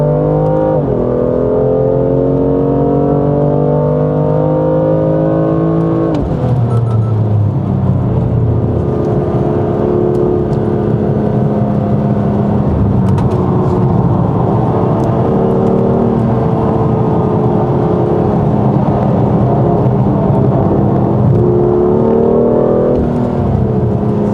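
A 2019 BMW F87 M2 Competition engine heard from inside while driving at the BMW Driving Center, loud and close, rising and falling through the revs with gear changes and surging acceleration.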